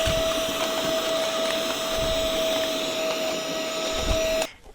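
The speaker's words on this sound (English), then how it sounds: "get that mini vac" A mini vacuum runs steadily, close and loud, while cleaning dust and lint out of a Brother 1034d serger, its motor whine holding constant for several seconds before shutting off.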